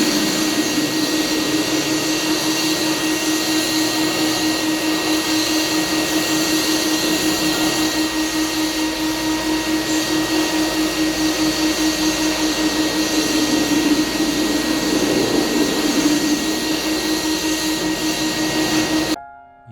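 Loud, continuous machine roar with a droning whine, a floor sander and vacuum running together without letup inside a cafe being prepared for flooring work, then abruptly cutting off at the end.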